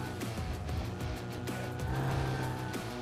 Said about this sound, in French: Les bruits des moteurs sont plutôt bons.